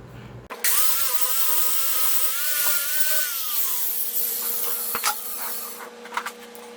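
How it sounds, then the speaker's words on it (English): A handheld grinder cutting a thornapple wood hollow form: a loud, steady rushing grind with a wavering whine, close and continuous for several seconds, then tapering off into a few knocks. "So the handy dandy grinder makes short work of that."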